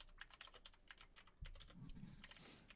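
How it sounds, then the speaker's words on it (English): Rapid, steady clatter of keystrokes on a loud mechanical keyboard, close and continuous with no talking. "I like how loud your keyboard is, Jesse."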